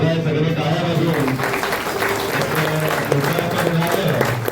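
An indoor audience applauds steadily at the public release of a video about Bhaiyyaji Sahasrabuddhe, a dense wash of clapping with a few voices mixed in, ending only when the clip does.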